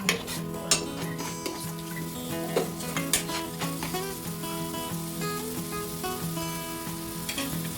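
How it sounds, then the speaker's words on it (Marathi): Onion with ginger garlic paste sautés for veg biryani, a steady sizzle in the pan broken by repeated metallic clinks and scrapes of a spoon stirring at an uneven rhythm. "कांदा थोडा मऊ झाला की एक चमच आलं लसूण पेस्ट घालायची आहे आणि थोडं परतून घ्यायचं आहे"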